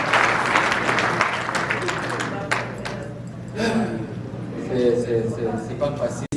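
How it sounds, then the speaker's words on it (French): An audience at a comedy night claps in a loud burst that gradually thins out, with a voice speaking over and after the applause. "il faut applaudir ça quand même"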